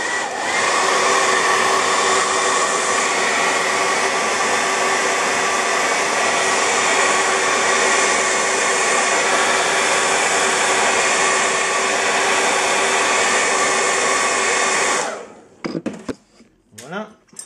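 A hair dryer blows steadily on a drawing of a comic-book character, a loud continuous whoosh lasting about fifteen seconds before it is switched off, followed by brief handling noises.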